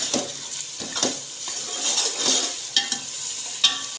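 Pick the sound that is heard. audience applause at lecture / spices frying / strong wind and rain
spices frying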